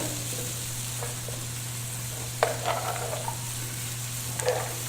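Chicken and flour brown in a pan for a pot pie, a close, steady sizzle with occasional scraping stirs and clacks of a utensil, over a low constant electrical hum.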